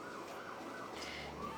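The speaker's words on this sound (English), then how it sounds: "there's been a lot of sirens lately" A faint siren wails in the distance, its rising and falling tone barely audible over low background noise.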